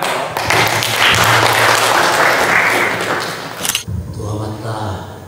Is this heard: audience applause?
yes